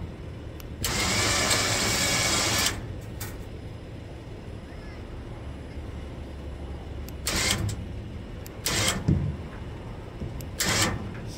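A winch pulls a trailer up and tilts it forward, giving a loud, close mechanical whir for about two seconds, then a quieter steady rumble broken by several short, sharp bursts.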